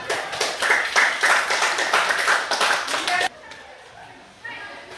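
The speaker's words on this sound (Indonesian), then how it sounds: "Oke, tepuk tangan dulu." A classroom of students claps during a school reproductive health lesson, with brisk rhythmic hand claps for about three seconds that stop abruptly, followed by quieter room sound and voices.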